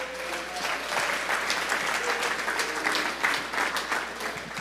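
A church congregation claps loudly and steadily during a sermon service, dense sustained applause filling the room with a faint tonal hum underneath.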